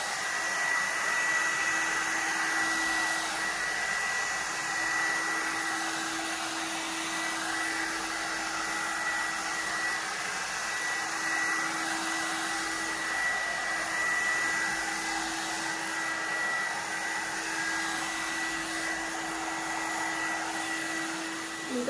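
An electric hot air comb runs continuously with a steady, close whirring blow like a hair dryer. Its high motor whine stays constant for the whole stretch, with no talking.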